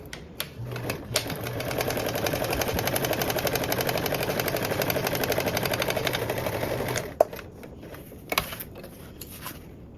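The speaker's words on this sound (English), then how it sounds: "And now sew this with that 3/8 seam allowance." A home sewing machine runs steadily for about seven seconds, stitching a 3/8 seam on a fabric panel for a duffle bag, then stops, followed by a few scattered clicks and handling sounds.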